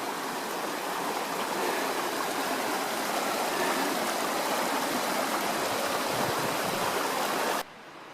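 Mountain stream at the bottom of a trail in Shenandoah National Park, rushing in a steady, dense wash of flowing water, close and constant until it cuts off abruptly just before the end.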